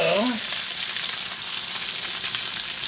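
Chicken browning in a Lodge cast iron pan, giving a constant close frying sizzle and hiss throughout, preceded by a brief tonal squeak at the start.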